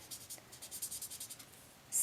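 Marker strokes on paper, a water-based Distress marker going over the same area again and again, give a soft, rhythmic scratchy rubbing that repeats steadily up close, ending in a brief louder scrape.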